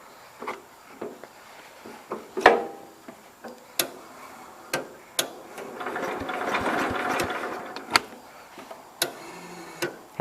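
A tractor engine runs unevenly while gears are shifted and the throttle worked, giving a close, irregular ticking and clattering that swells into a rougher, louder burst partway through. No one speaks.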